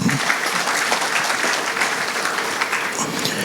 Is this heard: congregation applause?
yes